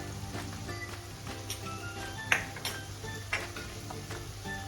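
A spoon stirs a potato and drumstick vegetable mix with spices in a pan, giving scattered light scrapes and metallic clinks over a faint steady sizzle, fairly quiet, with no talking.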